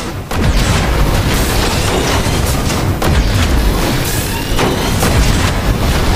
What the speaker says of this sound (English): Blast the power cells!